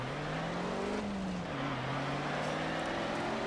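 A 2006 Hummer H1 Alpha open top driving in Forza Horizon 4, its engine a steady, loud drone that holds a continuous pitch and dips briefly before settling, alone with no talk.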